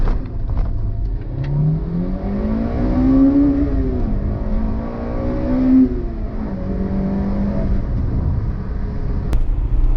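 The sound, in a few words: Honda Integra Type R engine revving at high rpm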